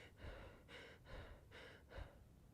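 A person breathes steadily near a microphone in a room, with four slow rhythmic breaths that rise and fall in a soft airy hiss, faint, with no talk.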